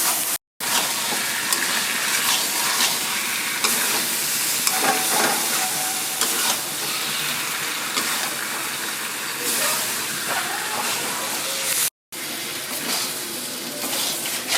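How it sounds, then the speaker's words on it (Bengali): Potatoes sauté in hot oil in a pan for a potato and tomato curry, with a continuous sizzling hiss and scattered scraping from stirring. The sound runs loud and close, with two brief silent gaps. "একটু আমি হালকা করে কষিয়ে নেব যতক্ষণে আলুর কাঁচা গন্ধটা না চলে যায়"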